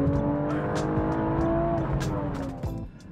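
A 400 hp BMW M135i accelerates hard, its engine note rising in a loud, sustained roar with shifting harmonics, heard close from inside the car.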